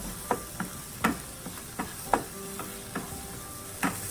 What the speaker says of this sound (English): Saute the fried onions until fragrant.